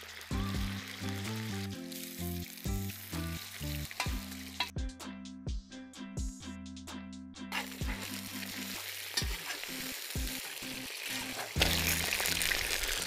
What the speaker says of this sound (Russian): Обжариваем хорошенько до полной готовности.